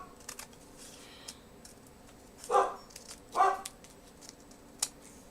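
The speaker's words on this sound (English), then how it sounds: "apologies for the dogs" Dogs barking indoors in a quiet room, two distinct loud bark bursts a second apart with a fainter yip later, over light rustling and handling sounds.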